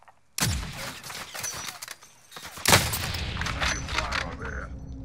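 Bursts of gunfire in Call of Duty: Modern Warfare combat, a sharp volley opening, scattered shots, then a second loud crackling burst with lingering rattling fire afterward.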